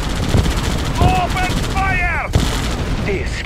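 Rapid gunfire from units in the real-time strategy game Red Alert 2, loud and continuous, with bursts and booms mixed with clipped in-game voice callouts and electronic effects.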